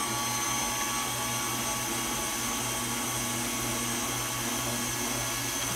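An electric mixer creams cream cheese with sugar for a vanilla cheesecake, a continuous steady whirring motor hum that fills the whole stretch without pause.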